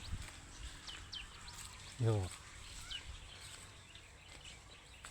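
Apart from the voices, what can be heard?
lelī bird (babbler) singing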